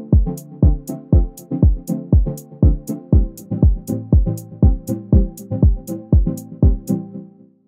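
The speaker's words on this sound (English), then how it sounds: "And then after, with the noise, it's going to be a lot more textured" A house pluck patch in the Vital synthesizer, layered with noise for extra texture, repeats short bright plucked notes in a steady rhythm, each with a crisp airy noise transient on top and a quick decay, played alone and loud.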